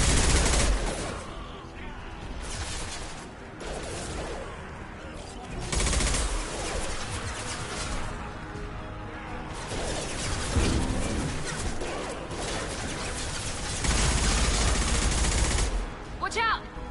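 Gunfire from the video game Mass Effect 2, with bursts of shots and crashing impacts running through a loud, dense battle mix, and voices talking at moments over the fighting.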